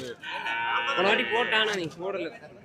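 Native cattle at the Kundadam cattle market give a long, drawn-out moo that rises and falls over a couple of seconds, loud and close, followed by a shorter second call.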